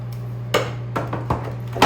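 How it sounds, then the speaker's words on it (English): A microwave oven heating vegetables gives a steady low hum, with a few sharp knocks and clatters nearby in a kitchen. "then I got some vegetables in the microwave"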